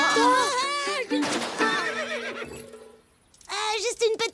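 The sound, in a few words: Mongolian horses neighing, cartoon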